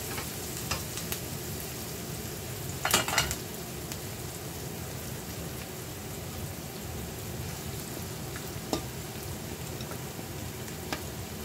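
Rabbit pieces coated in mustard frying in a pan with cooked onions, heard as a steady close sizzle with a few louder crackles and stirring scrapes.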